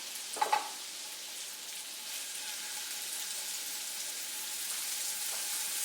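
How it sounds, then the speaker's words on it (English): Quiet, steady sizzling of shrimp frying in butter in a pan, with a brief soft clink near the start and no voices. "You hear that nice sizzle?"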